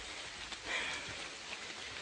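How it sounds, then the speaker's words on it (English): Steady heavy rain hissing on a forest trail during a hike, a dense close wash of drops with brief louder patches, no voices. "It was pouring and raining and wet."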